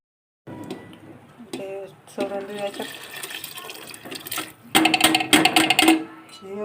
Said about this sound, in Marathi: गरम करायला ठेवलेलं पाणी हे टाकून देऊ